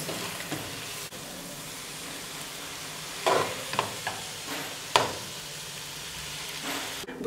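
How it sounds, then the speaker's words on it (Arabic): Drained pasta is stirred through sauce in a pan, with a soft bubbling sizzle under scattered spoon scrapes and clinks against the metal and no voices. "هنبدا آه نقلب المكرونه في الصوص"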